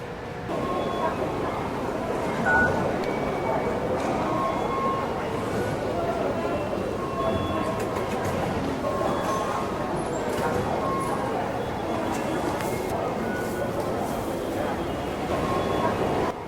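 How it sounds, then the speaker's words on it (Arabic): Hong Kong MTR metro train at Tung Chung station, a steady loud rumble of the moving train with broadband noise throughout and faint voices mixed in. "الآن نحن متجهون إلى وجهتنا التالية. هذه محطة تونغشانغ."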